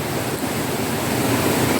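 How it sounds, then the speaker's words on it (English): A stream flows at a forest campsite in Valencia, a steady, close broadband rush of water that stays constant and fairly loud throughout, with no talking. "you can kind of see the stream here as the water's flowing down there"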